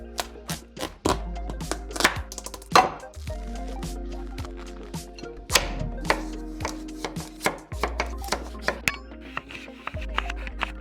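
A knife chops vegetables on a cutting board in a home kitchen, giving crisp, close, irregular thuds in short bursts with brief pauses between them.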